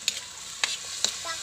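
Adobong silaw being stirred in a frying pan: a soft, steady sizzle carries three sharp scraping clicks of the utensil against the pan, close and fairly quiet, with no voices.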